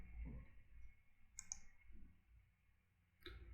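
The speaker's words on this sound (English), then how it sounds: "Let me click on update." A couple of quiet, crisp mouse clicks sound in a near-silent room, one pair around the middle and another near the end.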